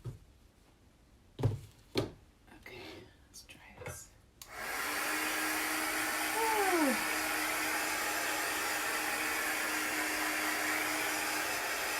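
Hair dryer blowing on a chalk craft project: a few knocks and handling thuds, then the dryer switches on into a steady close whoosh with a brief rising whine, continuing to the end.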